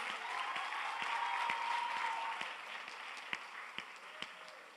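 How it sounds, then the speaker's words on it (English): Audience applause fills a hall at a Miss Malaysia Indian Global pageant as the top five finalists are called, a dense sustained clapping wash that thins out toward the end, leaving a few scattered sharp claps. "Can we please give a big round of applause to our top 5?"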